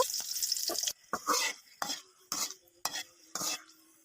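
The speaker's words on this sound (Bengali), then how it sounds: "এবার এর ভিতরে একটি শুকনো লঙ্কা একটি কাঁচা লঙ্কা তেজপাতা দিয়ে দিব" Dried red chili, green chili and bay leaf dropped into hot oil in a kadai for a Bengali potato dish, giving a series of short bursts of sizzling and spoon scraping that come and go in a rhythm of about six spurts.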